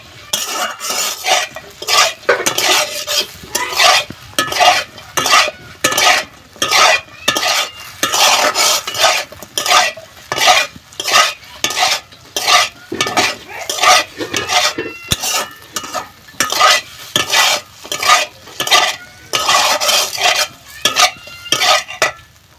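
Chicken 65 being stirred in a pan with a utensil, loud rhythmic scraping and clinking strokes repeating steadily with a light sizzle of frying underneath, no talking.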